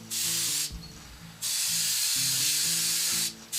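An airbrush sprays colour onto a stationary sycamore bowl in long steady hissing bursts, with short pauses between them, over a quiet low hum nearby.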